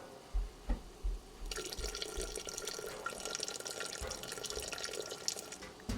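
Vinegar pours in a steady, quiet liquid stream into food while cooking, starting after a few soft knocks and running continuously to the end, no talking.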